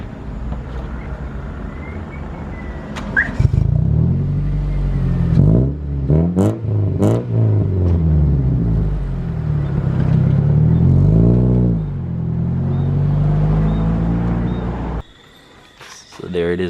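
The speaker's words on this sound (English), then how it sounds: "I just gotta show you the engine in a race car now" Engine revving from a Honda Civic EP3 race car with a K20 engine, rising and falling pitch sweeps repeated over several seconds, fairly close and loud, with a person talking over parts of it.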